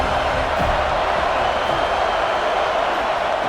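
A dense, steady roar of a crowd fills a football stadium on a third down, loud and continuous with no single voices standing out.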